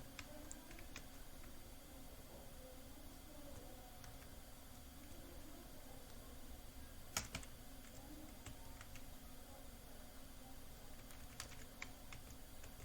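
Faint computer keyboard key presses during copy and paste shortcuts in accounting software, a few soft, sparse clicks under a steady background hiss.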